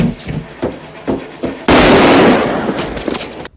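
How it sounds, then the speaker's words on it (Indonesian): Gunfire in a crime film scene where a police officer is shot: a sudden loud burst of blasts and rapid reports follows quieter talk and movement, ringing out for about two seconds before fading. "Ia langsung menembak polisi itu."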